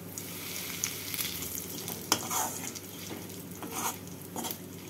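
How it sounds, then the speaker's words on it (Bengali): Whole spices tempering in hot oil for a stuffed potato curry: a dried red chilli, two bay leaves, white cumin and asafoetida crackle in a steady close sizzle, with brief louder pops and stirring bursts, no talking. "এটাকে গরম করে নিয়ে এর মধ্যে আমি দিয়ে দেব ফোড়ন।"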